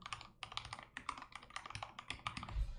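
Quick bursts of typing on a computer keyboard while an email address is entered into a newsletter signup form, with irregular rapid clicks close up and no talking.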